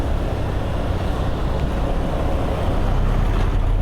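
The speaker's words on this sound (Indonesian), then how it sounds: "Wow, hujannya deras coy." Heavy rain pours down during a long motorcycle ride, making a continuous dense roar mixed with rushing wind noise, loud and unbroken throughout, with no voices.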